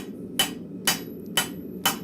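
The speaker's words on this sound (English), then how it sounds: "So I'm going to use the rounding side of my hammer." Blacksmith strikes hot steel with the rounded face of a hammer in a forge: four sharp, evenly spaced metallic blows about half a second apart, close and loud over a low background hum.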